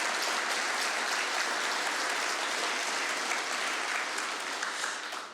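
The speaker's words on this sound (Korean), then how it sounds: "다시 한번 뜨거운 박수로 격려해 주세요" A church congregation applauds warmly during a Sunday worship service, a steady dense wash of clapping that holds evenly throughout and fades slightly at the end, with no voices over it.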